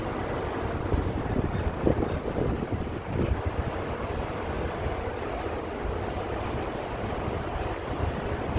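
Wind blows outdoors during a walk along a city street in Metro Manila, rumbling steadily against the microphone with gusty low buffeting and faint traffic beneath.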